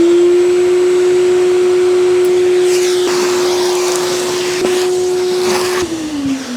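Powerful vacuum cleaner running continuously in a workshop during a Land Rover Series 2 and 3 seat rebuild, a loud, steady motor whine with rushing airflow and occasional suction changes, then winding down at the end.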